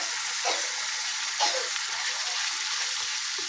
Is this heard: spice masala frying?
yes